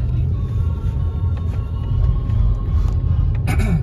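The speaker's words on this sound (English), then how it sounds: "Listen to that V8. That's what these Cadillac Northstars are known for." Cadillac Northstar V8 in a 2007 Cadillac DTS idling with a steady, loud low rumble, heard alone without talk.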